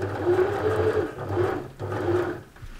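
A sewing machine stitches along the zipped edge of a sweater being turned into a cardigan, a close, steady motorised whirr in several short bursts with brief pauses between them.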